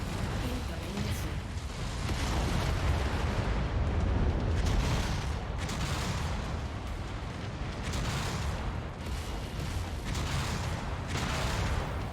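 Missile explosions from the MechWarrior 5 video game come as a run of deep booms and rumbling blasts over about twelve seconds, some sharper hits standing out, with mechanical game noise layered underneath.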